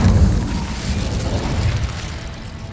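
An Incendio fire spell blast in Hogwarts Legacy, a deep booming burst up front that trails off into a low rumbling roar, fairly loud and close, with no voices over it.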